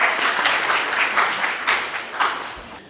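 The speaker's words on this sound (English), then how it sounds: "Let's have big applause for her." An audience at a GDay 2014 event in Kathmandu applauds a presenter, producing a short burst of clapping that swells and eases in waves while individual claps stand out.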